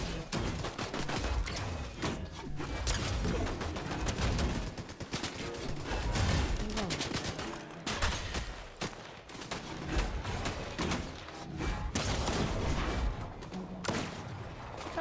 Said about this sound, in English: Yep, we got more shots.